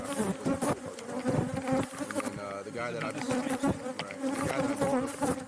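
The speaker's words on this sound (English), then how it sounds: "We really started getting swarmed by the bees" Dense, loud buzzing of many bees close by, with someone speaking briefly over the swarm.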